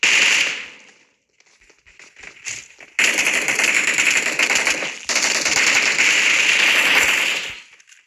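Rapid gunfire rattles in the mobile battle royale game PUBG Mobile, a short spray of shots, then a pause, then two long sustained bursts of loud automatic fire close up.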